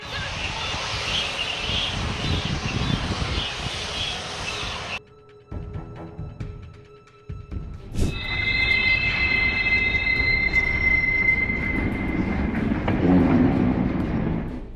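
A train carrying nitric acid rumbles past with a broad roar, briefly dropping away before returning with screeching wheel squeals and wind buffeting the microphone.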